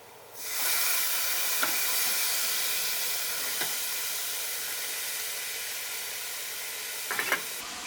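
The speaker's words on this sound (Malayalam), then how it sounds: "ഇനി ഇതിലേക്ക് കോളിഫ്ലവർ ചേർക്കാം." Cauliflower drops into a hot frying pan and sizzles loudly and steadily, with a few faint clinks of utensils over the continuous hiss, close and with no talk.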